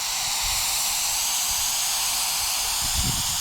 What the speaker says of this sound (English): just kind of using the single action airbrush